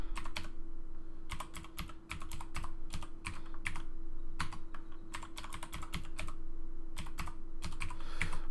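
Fast bursts of crisp clicky keystrokes on a computer keyboard while a Wi-Fi password is entered during router setup, close and clear over a steady low hum, with brief pauses between runs and no talk.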